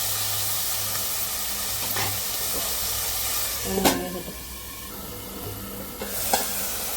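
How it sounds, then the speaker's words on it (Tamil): Chopped tomatoes with salt sizzle steadily in a hot pan, a constant close hiss broken by a few sharp scrapes and clatters as a spoon stirs them. "தக்காளி வந்து கொஞ்சம் உப்பு போட்டு லைட்டாக ஒரு கிண்ட கிண்டி மூடி வச்சுக்கலாம்."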